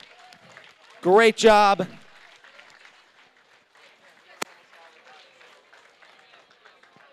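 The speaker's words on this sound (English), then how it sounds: "Give a round of applause to all the teams." Crowd applause for robotics teams at a FIRST Tech Challenge Iowa tournament in Ottumwa, a steady, moderately quiet wash of clapping that follows a loud announcer's voice over the arena sound system.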